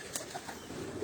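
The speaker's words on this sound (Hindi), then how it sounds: "ये जो तीनों कबूतर मैं आपको दिखा रहा हूँ" Flying pigeons on a rooftop loft give a soft, faint coo, with a brief flutter of wings, quiet and somewhat distant against light background noise.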